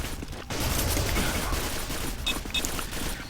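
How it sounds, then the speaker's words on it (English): Dense gunfire and bursts of machine gun shots during a Quake 4 team deathmatch, loud and continuous with a steady rumbling background throughout. "Gonna try to do what we can with the machine gun"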